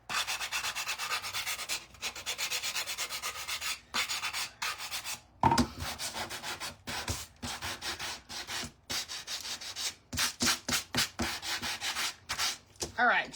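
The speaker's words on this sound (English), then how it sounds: "let's go and sand this around right here." A wooden snowman craft is sanded by hand, with repeated rasping strokes in bursts broken by short pauses, close and fairly loud with no speech.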